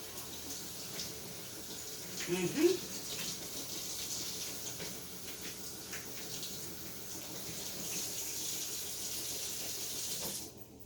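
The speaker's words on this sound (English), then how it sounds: "your girl's gonna wash this turkey right on off" A kitchen tap runs while turkey wings are washed beneath it, a soft, steady stream with light splashing and a brief clunk near the start, ending abruptly.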